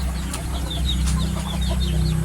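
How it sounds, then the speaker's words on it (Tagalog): Hens and their chicks on a backyard poultry pen, soft repeated clucks and high chick peeps scattered over a constant low hum, fairly close and steady. "Ang dami kong sisiyo dito."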